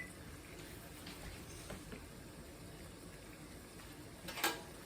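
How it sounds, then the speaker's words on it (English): Dandelion greens boiling in a pot of water, a faint steady bubbling hiss throughout with a brief louder splash near the end. "we're just going to put them into the boiling water, let them boil for 5 minutes"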